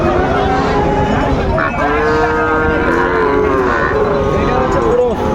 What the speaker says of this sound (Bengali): গরুগুলো আমাদের সুন্দরভাবে এক পিস এক পিস করে দেখেন